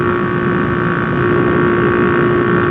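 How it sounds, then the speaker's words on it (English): Honda Cub motorcycle engine drones steadily and loudly with a raspy, buzzing exhaust note from a holed exhaust, constant throughout, heard up close while riding. "I think my exhaust might have blown another hole."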